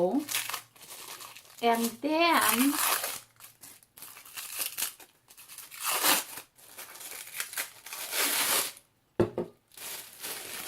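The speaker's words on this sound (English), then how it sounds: "the easiest way is to take the plastic first from the bowl" Crinkling and rustling of a plastic sheet being peeled out of a bowl during a craft project making bird nests, coming in bursts between stretches of someone talking and a voice.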